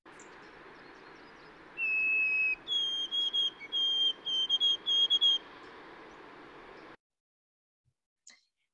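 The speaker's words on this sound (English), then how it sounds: "the mnemonic that a lot of people use for white-throated sparrows is, "Oh, sweet Canada, Canada, Canada."" A white-throated sparrow sings its clear, pure whistled song: a long opening note followed by a stepped run of repeated short phrases, bright and alone against a soft steady background hiss before falling silent.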